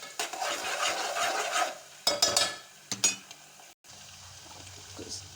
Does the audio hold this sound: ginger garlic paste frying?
yes